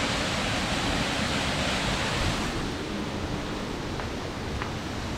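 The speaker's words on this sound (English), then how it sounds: "We have the waterfall down there." Water from a waterfall in an Irish forest rushes steadily in the distance, a soft broadband roar with some wind buffeting the microphone.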